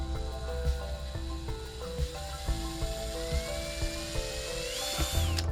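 A drill bores a pilot hole for a light fixture, a steady whining drone with a rising pitch toward the end and a few short bumps of contact, close and continuous throughout.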